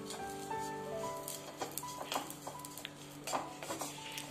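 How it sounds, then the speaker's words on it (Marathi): Dry coconut roasts in a pan for a stuffed eggplant masala, with soft scraping and clinking of a spoon against the pan and faint sizzling in a quiet kitchen. "त्याच्यामध्ये आता आपण खोबरं भाजून घेऊ।"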